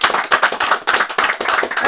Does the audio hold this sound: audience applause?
yes